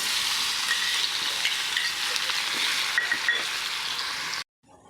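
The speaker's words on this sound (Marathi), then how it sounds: "थोड्या कोमट तेलात आपण थोडंसं हिंग घालूया आणि आपण दरदरीत लसूण कुटून घेतला आहे ते लसूण घालायचं आहे" Asafoetida and coarsely crushed garlic sizzle in warm oil for a wet turmeric pickle tempering, a close, steady crackling fry with small pops that stops abruptly near the end.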